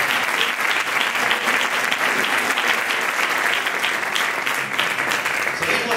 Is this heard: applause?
yes